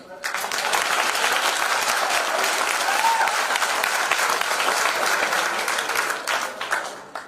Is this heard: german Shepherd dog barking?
no